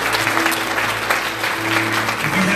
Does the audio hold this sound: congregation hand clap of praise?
yes